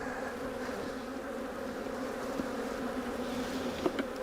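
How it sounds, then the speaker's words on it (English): Honey bees balling up inside a crowded hive during an inspection, a dense continuous buzzing hum heard close, steady and alone with a few faint knocks near the end. "There's too many bees in here. They're balling up."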